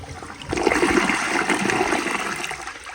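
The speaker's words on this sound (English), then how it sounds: "Here is a flush." A 2018 American Standard Townsend Vormax toilet flushes with a strong, quick rush of water that swells loudly up close and then tapers into a gurgling trickle.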